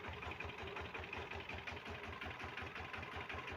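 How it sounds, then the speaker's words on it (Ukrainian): Homemade walk-behind tractor fitted with a motorcycle engine, running close by with a fast, regular low-pitched chugging that stays constant and unbroken throughout. "Ось такий цікавий мотоблок ми зробили самі."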